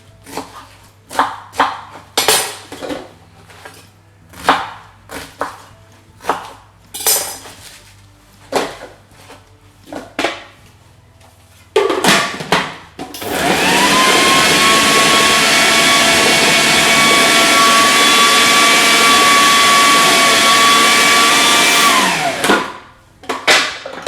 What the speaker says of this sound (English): just chopping everything up in the food processor